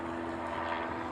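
A Hawaiian Airlines plane arriving at Honolulu airport from Lihue gives a steady, loud engine roar that fills the short stretch without a break.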